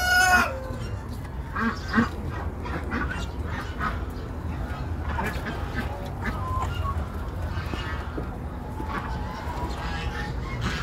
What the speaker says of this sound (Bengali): অনেক হাঁস এবং মুরগ এখানে।